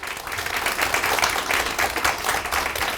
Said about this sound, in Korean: 수상하신 분들께 큰 박수 부탁드리겠습니다.